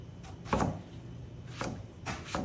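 A knife cuts eggplant on a cutting board for a stir-fry side dish, giving a few close, crisp chops spaced unevenly, with quiet kitchen background between them.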